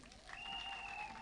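An audience at a funeral service in Kenya gives a brief, faint round of applause, a dense patter of many hands with a tone whistling over it.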